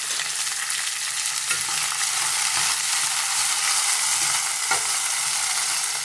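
Bay leaves sizzle in hot oil inside a pressure cooker over a low flame, a steady, loud, bright crackling hiss that runs unbroken with no voices.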